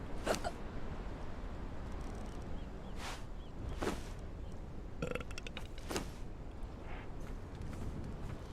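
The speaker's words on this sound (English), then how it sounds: "Stop burping." A character in the game Conan Exiles lets out several short, separate burps with gaps between them, quiet and alone with no talking over them.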